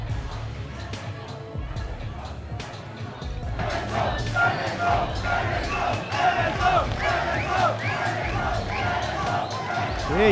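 Home crowd cheering and shouting at a Men's Physique Pro bodybuilding final in Brasília, a dense, loud roar that swells after a few seconds and holds steady, with voices calling out within it.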